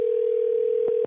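A telephone call rings out as a single steady electronic ringback tone, held for about a second at moderate loudness with a couple of faint clicks before it cuts off.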